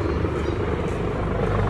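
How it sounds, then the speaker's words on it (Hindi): A helicopter passes by near a lakeside in Sigtuna, its rotor and engine making a steady, loud rumble that fills the short stretch with no break. "देखो हेलीकॉप्टर उड़ के गया,"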